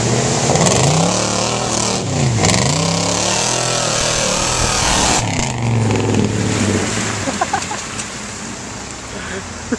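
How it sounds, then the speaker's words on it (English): A Black Betty truck churns through mud in two-wheel drive, its engine revving loud and steady close up, surging and easing through the whole stretch with brief shouts over it. "Here's Cody in two-wheel drive."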